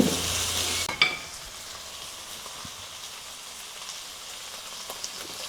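Mutton cooked village style in a banana leaf sizzles and crackles softly and steadily, after a louder hissing burst and a clatter in the first second.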